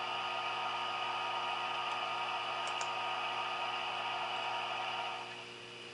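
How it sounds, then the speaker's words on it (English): Model train air conditioning sound effect from an ESU LokSound v4.0 Pioneer Zephyr sound file, a steady broadband whooshing hum with a couple of faint ticks, dropping in level near the end. "There's the air conditioning."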